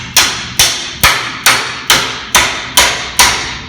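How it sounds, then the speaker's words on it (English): A hammer strikes a metal vise eight times in a steady rhythm to tighten it shut, each blow a sharp, loud, ringing metallic clank close by, with no talking. "we hammer them closed to make sure it's really tightly closed"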